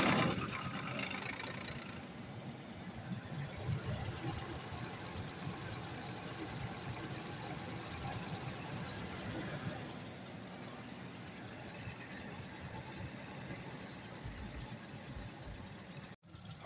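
Lincoln 5.4 engine firing up and settling into a steady idle, a continuous mid-pitched running hum heard close and moderately loud for over fifteen seconds, with no talking.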